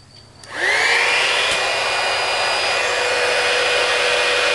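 A heat gun switches on and blows hot air, rising quickly to a loud, steady whooshing roar with a faint whine, heard up close and alone.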